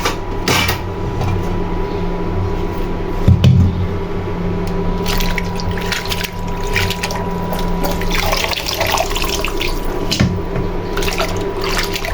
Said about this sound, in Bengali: শাকটাকে এখন ধুয়ে নিব সুন্দর করে